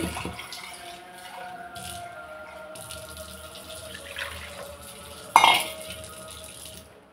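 Water running from a tap for rinsing a pot that held moong dal, a continuous trickle with light rattling of the vessel and one sharper clatter near the end, with no voices.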